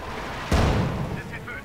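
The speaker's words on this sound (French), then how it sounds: "Je commence mes tirs de support avec mon canon d'assaut." Assault gun support fire in Company of Heroes 2: a single heavy cannon boom bursts out midway with a rumbling decay, followed by fainter battle noise.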